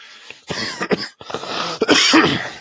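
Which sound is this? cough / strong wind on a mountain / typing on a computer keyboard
cough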